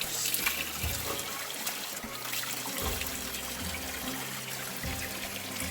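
Spring water at Guzoluk runs steadily, a continuous close trickle and splash that fills the whole stretch without pause, with low tonal hum beneath and no voices.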